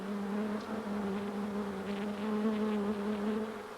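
Honey bees in a clean hive give a continuous, even buzzing drone, steady and fairly loud throughout with no pauses.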